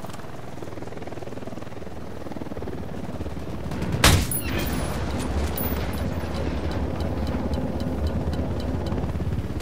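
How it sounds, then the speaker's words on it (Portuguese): A video game helicopter's rotor drone runs steadily through the scene alongside bursts of distant gunfire, with a sharp loud crack near the middle and no speech. "Helicóptero da unidade,"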